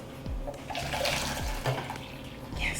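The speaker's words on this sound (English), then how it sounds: "I should have poured this last because this got the lemon and ginger in it." Green juice with lemon and ginger poured from a juicer container, a fairly steady liquid stream splashing close by with a few louder gurgling surges, no talk over it.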